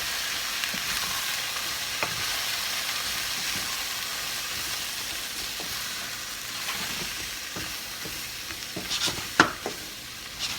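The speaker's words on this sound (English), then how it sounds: "Now we're going to give this a mix." Curry powder is stirred in a hot pan with a continuous close sizzle and light scraping from the spoon, ending in a few sharper clinks. No one speaks.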